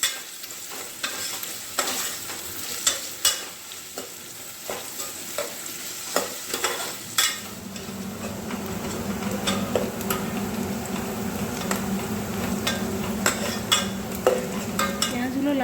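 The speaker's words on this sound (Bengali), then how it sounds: "পেঁয়াজগুলো ভালোভাবে ভেজে নেব, একটু লাল লাল করে ভাজবো।" Onions fry in a pan for a mutton curry, a sizzle that grows fuller over time, broken by regular scraping and tapping strokes as they are stirred, close and with no talking.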